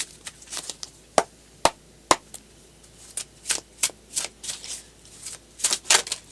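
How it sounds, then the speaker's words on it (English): Tarot cards shuffled by hand close up, a series of crisp slaps and riffling flutters in irregular bursts, sharper snaps early on and quicker rustling riffles later. "The tarot cards to tell us something."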